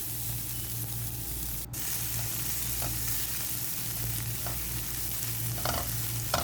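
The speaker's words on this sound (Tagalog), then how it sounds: "And we fry it for about 5 minutes." Food for tuna pasta frying in a pan, a close, continuous sizzle with occasional stirring scrapes and small pops.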